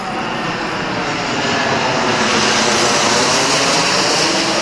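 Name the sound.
airplane passing overhead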